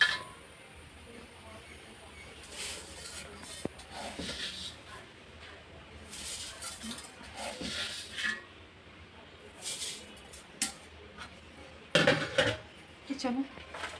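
Uncooked rice being taken out of a cooking pot in a dim home kitchen: scattered metallic clinks and scrapes come in short bursts over a quiet background, fairly faint and irregular.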